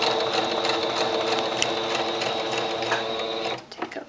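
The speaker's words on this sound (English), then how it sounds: "And then you just continue sewing until you get to the end of the line." Sewing machine running steadily as it stitches fabric, a close, continuous rapid whirring chatter that stops abruptly near the end, followed by a few faint handling clicks.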